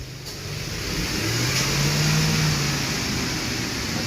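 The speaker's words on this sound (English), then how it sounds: "Take the revs up to like 2 grand, right around 2 grand, and hold it for about 7 seconds" A Ford F150 4.6L truck engine rises to a steady 2000 rpm and holds there, a low droning hum with a slight pitch climb, close and continuous.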